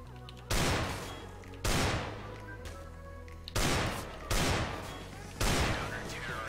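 Desert Eagle pistol shots in Counter-Strike, four loud single blasts spaced about a second apart, each with a sharp attack and a decaying tail over faint background talk.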